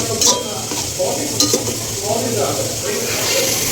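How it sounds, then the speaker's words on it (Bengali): Marinated meat fries in a pot while it is stirred, giving a continuous close sizzle broken by a few sharp scraping strokes of the spoon against the metal. "মাংসটাকে এখন খুব সুন্দরভাবে আমি নেড়ে নেড়ে কষিয়ে নেব।"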